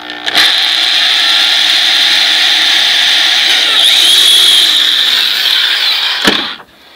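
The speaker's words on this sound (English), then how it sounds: "I'll just go ahead and drill me a hole right here." A power drill whines steadily at high pitch for several seconds while boring a hole in wood for a birdhouse, its tone shifting slightly, then cuts off abruptly with a clunk.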